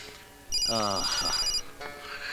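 A telephone rings with a bright electronic trill, then a voice speaks over a second shorter ring.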